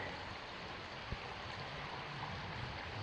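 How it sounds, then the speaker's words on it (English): Steady rushing water of a stream at a wooded canoe portage fills the whole stretch, a constant broad wash flowing nearby, with no voices. "Got some running water."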